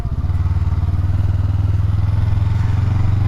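A Honda Rebel 500 motorcycle rumbles steadily while being ridden, a loud, close, even low engine throb with a pulsing beat that holds constant, no talking.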